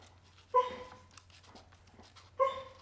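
A dog whimpers and gives soft yips while dreaming indoors, two short, faint whining cries about two seconds apart over a low background hum.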